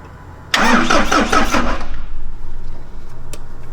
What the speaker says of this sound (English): Go ahead and crank it a little.